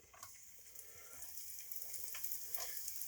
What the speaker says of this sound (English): We're going to be placing our chips right into the oil. Let them fry for a bit.